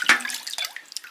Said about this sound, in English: Give it a rinse, kind of wash some feathers off.